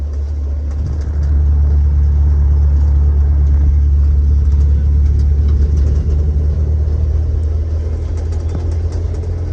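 A restored 1975 International Harvester Scout II drives along with a steady, loud low engine rumble and road drone that holds throughout with no talking.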